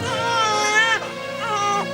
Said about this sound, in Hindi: बच्चे की किलकारी सुनाई पड़ी